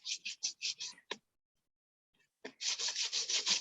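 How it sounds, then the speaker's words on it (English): A copper sheet being scratched to give gesso grip, heard as a rapid series of short rasping strokes, a brief pause, then another burst of quick scraping close up. "give it a nice, good, thorough scratching so the whole surface that you need is done"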